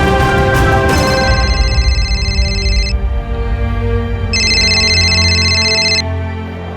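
A telephone rings twice with a bright electronic trill, loud and close, the bursts separated by a pause and laid over a dramatic music bed.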